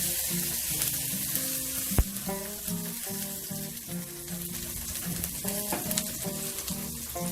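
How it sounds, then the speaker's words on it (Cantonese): Ginger and garlic stir-fried in a wok for shredded pork with king oyster mushrooms, giving a steady close sizzle with quick scraping stirs and a sharp clank near the middle, while background music plays throughout. "爆一爆呢個薑同埋蒜頭"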